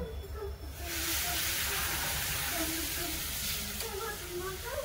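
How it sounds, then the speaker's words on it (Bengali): Water poured into a hot pan of fish curry with katla fish and cauliflower bursts into a loud, sustained hiss and sizzle that fills the clip, close up and with no talking. "এবারে জল দেব।"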